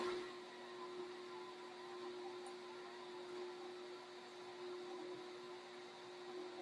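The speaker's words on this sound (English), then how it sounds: "You can hear the mixer start to strain." A stand mixer strains while kneading thick beignet dough, its motor giving a steady whining hum with a constant tonal drone, moderately quiet and continuous, with no talking.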